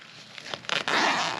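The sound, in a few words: opening top zipper of DJI Mini 4 Pro case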